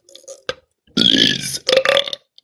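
A person burps out a name, a couple of short croaks followed by a longer, loud, rough belch shaped into syllables, close to the mic.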